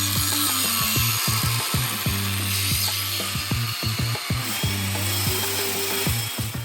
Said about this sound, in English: I tried to treat some of the surface body rust with a wire wheel